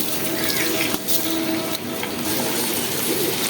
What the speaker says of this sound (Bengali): এখন চালটা আমি ঢেলে দিচ্ছি